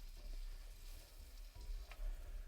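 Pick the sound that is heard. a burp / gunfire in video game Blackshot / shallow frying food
shallow frying food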